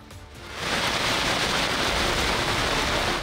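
Heavy monsoon rain pours down in Lahore, a dense steady hiss that swells in within the first half second and then holds loud and continuous without a break.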